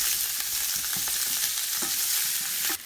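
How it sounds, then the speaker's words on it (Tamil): Whole tomatoes sauté in a pan for tomato chutney, giving a steady, close, fairly loud sizzle with occasional soft stirring knocks, and no voices. "இந்த மாதிரி நம்ம முழுசாக போட்டு வதக்கும் போது வெளியில் இருக்கிறது நல்லா குக் ஆகிடும்"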